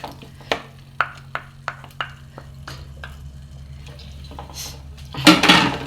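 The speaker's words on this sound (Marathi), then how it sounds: "विनाग्रीचो मसालो घालो मातशें भाजून घेता" A spoon taps and scrapes against a pan while Goan vinegar masala is stirred and roasted: a run of sharp metallic clinks at a steady pace, then softer stirring and a louder burst of scraping at the end.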